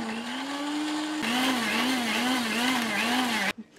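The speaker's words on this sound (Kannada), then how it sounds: "ಈಗ ಮಿಕ್ಸಿಲಿ ಬ್ಲೆಂಡ್ ಮಾಡ್ಕೊಂಡು ಪೌಡರ್ ಮಾಡ್ಕೊಂಡಿದ್ದೀನಿ. Biscuit powder." A kitchen mixer grinder whirs as it blends biscuits with melted butter into powder, a loud, steady motor whine with a slight wavering pitch that cuts off abruptly just before the end.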